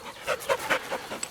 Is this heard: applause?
no